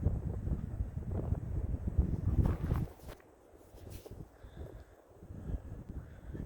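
Gusty wind buffets the microphone with loud rumbling bursts, dropping off midway before picking up again in softer, uneven gusts, in a meadow on Mount Charleston near Las Vegas.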